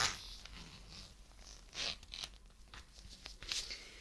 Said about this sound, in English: And the third is sealed with a zipper